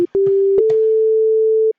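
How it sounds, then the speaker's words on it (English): A single synthesizer sine wave holds a steady, pure drone for over a second, bracketed by a few short clicks and blips at the start and a cut at the end. "I'm just gonna use one sine wave."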